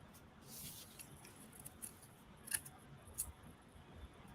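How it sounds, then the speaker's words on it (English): Scissors trim the top seam off a printed minicomic page, giving a few quiet, brief snips and paper clicks spaced across the stretch against a faint room hiss. "So you're going to take scissors. You're going to trim off the very top of that,"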